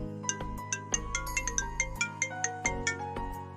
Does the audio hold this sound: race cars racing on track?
no